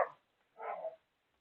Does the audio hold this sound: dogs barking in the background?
yes